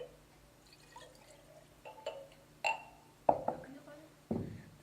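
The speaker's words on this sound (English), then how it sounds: "So I'm going to add 1 cup of water." A cup of filtered water being poured into a container, heard as a few separate splashes and drips that get louder toward the end, close by and quiet, with no talking.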